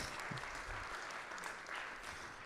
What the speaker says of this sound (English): I feel we should give them another round of applause